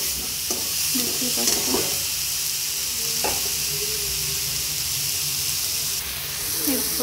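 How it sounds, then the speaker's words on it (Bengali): Pointed gourd, potato, onion and green chilli frying together in a pan, a steady broadband sizzle with a few scraping stirs of a spatula, close and fairly loud, under a brief spoken phrase. "পটল আলু পেঁয়াজ আর কাঁচা লঙ্কা এগুলো সব একসাথে ভেজে নিয়েছি"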